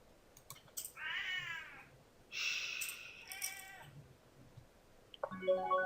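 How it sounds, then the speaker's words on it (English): An upset cat throwing a tantrum yowls repeatedly: two long, drawn-out wailing meows, a shorter cry, then a final rising yowl, fairly close and loud against a quiet room. "my cat's really throwing a tantrum today"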